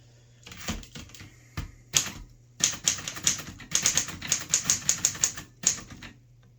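A 1938 Corona Sterling typewriter clacks through a quick flurry of sharp keystrokes, a few isolated strikes giving way to a rapid rhythmic burst, close and crisp with a low mechanical hum beneath.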